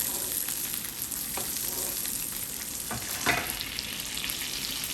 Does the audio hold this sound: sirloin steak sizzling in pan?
yes